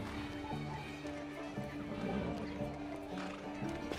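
Horse riding in the online fantasy game Bless Unleashed, with steady clip-clop hoofbeats and game music running throughout, the hooves mixed under a busy in-game soundscape with some speech-like sound.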